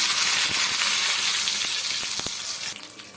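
Cumin, mustard seeds and two chillies crackle and sizzle in hot oil in a small pan for a village-style roasted brinjal chutney, a steady close hiss with a few sharp pops, fading slightly toward the end.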